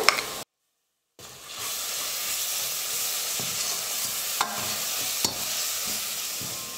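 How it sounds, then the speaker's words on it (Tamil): Ginger garlic paste sautéing in a pan after onions and curry leaves, for country chicken kulambu: a steady close sizzle and frying hiss with occasional stirring clinks, heard alone after a brief gap of silence. "இஞ்சி பூண்டு விழுது சேர்த்து 1 நிமிஷம் நல்லா வதக்குனா போதும்"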